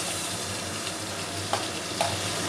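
Bay leaves, dried chillies and onion fry in hot oil for a Bengali crab curry, a dense, steady close-up sizzle with a couple of faint stirring knocks near the end.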